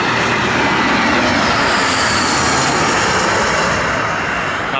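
Airplane engines roar steadily and loudly at an airport, a broad continuous rumble with hiss that holds throughout, with no talking.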